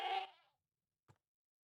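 A screaming goat in the Minecraft video game lets out one loud, harsh bleat, followed by a second short, quieter sound, with silence between them.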